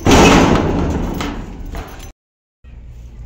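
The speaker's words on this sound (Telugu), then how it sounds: "గాలి పోకుండా డోర్ పెడతా" A door is pulled shut inside a home, giving a loud, heavy thud with a brief rattle that fades into a moment of silence before faint room sound returns.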